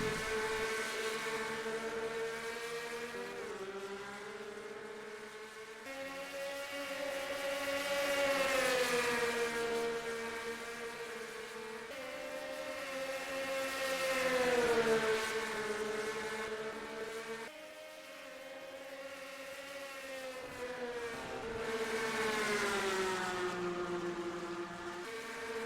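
Stock car engines roar together at the green flag of a Quaker State 400 race at DuQuoin in a racing video game, a loud, continuous harmonic drone that rises and falls in waves as the field accelerates.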